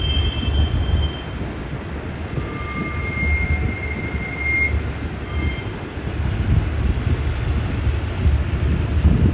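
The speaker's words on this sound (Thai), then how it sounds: "83 ออกจากย่าน LD พหลโยธินนะครับ" An express train, number 83, leaves the Phahonyothin rail yard with a steady heavy rumble of cars rolling over track. Thin, faint wheel squeals rise above it now and then, with wind noise throughout.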